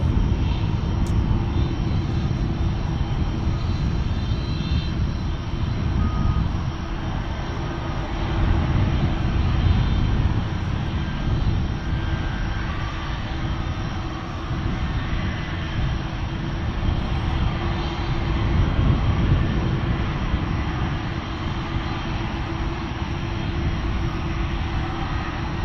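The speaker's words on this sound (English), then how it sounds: "Dreamliner off to Istanbul." Boeing Dreamliner jet taking off from Dallas Fort Worth International Airport, bound for Istanbul: a steady, loud, broadband engine roar with heavy low rumble, sustained without a break and with no talk over it.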